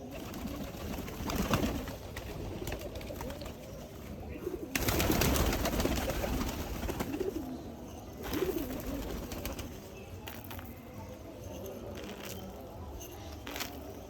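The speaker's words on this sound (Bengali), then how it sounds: "দেখেন হাতে খাবার, কবুতরগুলা এসে পড়ছে খাওয়ার জন্য।" Pigeons being hand-fed grain, cooing softly in low, rolling murmurs with scattered wing and shuffling sounds, moderately close and continuing throughout.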